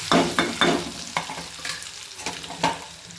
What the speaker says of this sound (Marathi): हे सर्व भाजत आलं की गॅस बंद करून घ्यायचा